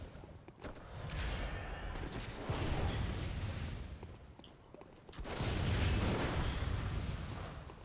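Dense bursts of gunfire and explosive pops from enemy shooting in the video game Bloodborne come in two loud, sustained stretches separated by a brief dip.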